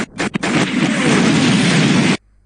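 Shooting in a 2D Gundam shooter game built in Unity produces a loud, close game sound: a few quick pops, then a sustained roaring blast-like burst that cuts off abruptly near the end.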